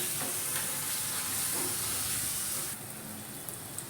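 Sev usal mixture stirred in a hot pan, a steady close sizzle and hiss with soft scraping throughout, without speech.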